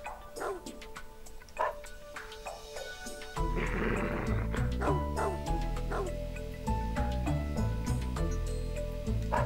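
A dog in the video game Dog's Life gives repeated yips and barks with a few whimpering notes, near and lively, while game music swells in about a third of the way through and continues underneath.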